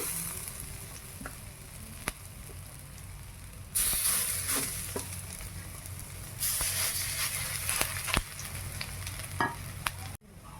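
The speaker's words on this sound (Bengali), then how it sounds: "আর একটু এটা বাকি আছে, এটা ভেজে নে।" Bitter gourd fritters frying in hot oil, a soft continuous bubbling sizzle that swells louder midway, with scattered stirring taps and clinks nearby, fairly quiet overall.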